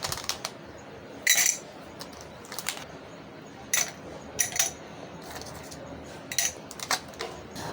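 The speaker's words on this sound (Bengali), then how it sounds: "দিয়ে দিচ্ছি আইস।" Ice cubes dropped into a sherbet drink during preparation, giving a few bright, brief clinks at scattered moments over a soft background hiss.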